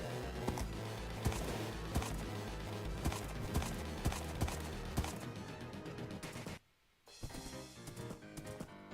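A horse in Minecraft, modded with GregTech New Horizons, clip-clops at a steady trotting rhythm under dense, loud game music and sound effects, with a brief dropout before the hoofbeats pick up again.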